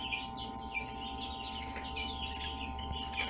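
Newly hatched caipira chicks in an incubator, a continuous chorus of high, busy peeping close by over a steady electrical hum.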